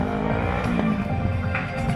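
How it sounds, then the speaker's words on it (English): A motorbike at Santa Pod spins its rear wheel in a backwards drifting burnout while balanced on the front, engine snarling close and loud with wavering tire squeal, short and continuous with no speech. "trying to do a little bit of a burnout whilst on that front bumper. Drifting burnout backwards."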